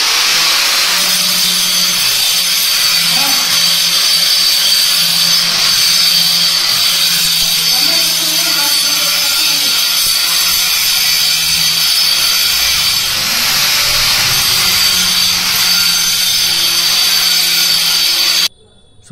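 Cutting blades grinding and shaping the molded edge of a granite slab in a stone workshop, a steady, loud, continuous high-pitched grinding whine that lasts throughout before stopping abruptly at the end.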